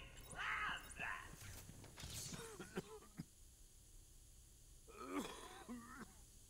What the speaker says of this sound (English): Why are you coughing?